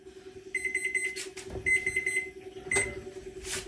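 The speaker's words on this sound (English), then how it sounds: "Now you can see that the timer's gone off." An oven timer goes off when a cheesecake finishes baking, giving bursts of rapid high electronic beeps, repeated several times with short pauses between them, clear and close over a low steady hum.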